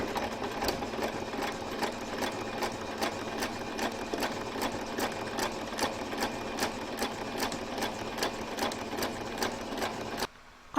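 A sewing machine stitches sashing on a quilted fabric table runner in a steady, fast mechanical rhythm, running continuously at close range, then stopping abruptly near the end.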